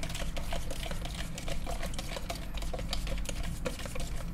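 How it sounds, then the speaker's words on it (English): Octopus salad dressing being stirred until dissolved, a steady close scraping and swishing with faint liquid ticks, quiet and continuous with no talk. "You mix it till it's dissolved"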